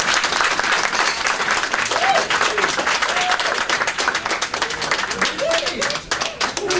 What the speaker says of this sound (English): I want everybody to give a round of applause to Miss Brenda Cooper